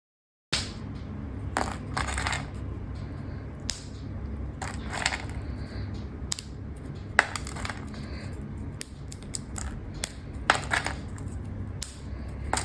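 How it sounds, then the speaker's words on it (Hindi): Dry, brittle crackling and crunching of fruit peels dried for 48 hours comes in sharp bursts over steady low handling noise, close and fairly quiet, with no one speaking. "जब आपको कड़क आवाज आ जाएगा, तब आप समझ जाइएगा कि आपका ये छिलका अच्छी तरह से सूख गया है"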